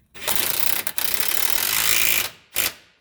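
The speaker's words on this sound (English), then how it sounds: "All we got to do is slowly ratchet it in." A ratchet slowly driving in a control arm bolt on a 2012 Mazda CX9, heard as close, loud bursts of rapid metallic clicking broken by two brief pauses.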